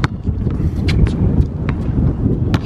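Strong gusty wind buffets an outdoor microphone during a game of OUT, a loud continuous rumble with brief sharper bursts throughout.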